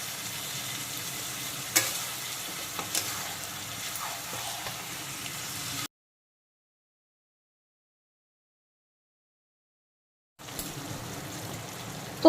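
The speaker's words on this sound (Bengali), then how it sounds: "4-5 মিনিট সময় নিয়ে লো টু মিডিয়াম আছে ভালো করে সমস্ত মশলার সঙ্গে মিক্সড করে নিয়েছি" Country chicken fries in a pan with spices, onion and tomato while it is stirred, giving a close, steady sizzle with scraping strokes. The sound cuts out to silence midway, then the sizzling returns.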